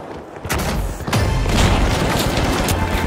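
Heavy gunfire and explosive booms in the video game The Finals, loud and continuous, a dense barrage of shots that swells after a brief lead-in.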